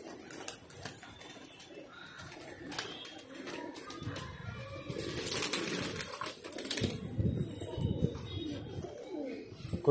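Pigeons coo softly and repeatedly nearby, with rustling, fluttering and a few sharp clicks mixed in; no one speaks.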